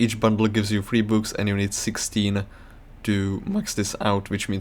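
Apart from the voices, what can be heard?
No distinct noise like a dog, phone or traffic.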